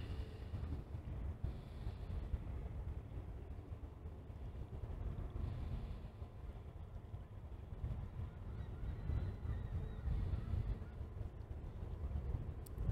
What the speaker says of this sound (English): the Canadian geese in the background.